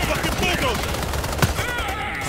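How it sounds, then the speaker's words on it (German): A single gunshot fired backwards in the video game Payday 3 cracks out sharply over busy game noise, with a German voice talking in the background. "einmal ganz kurz einen Schuss nach hinten machen"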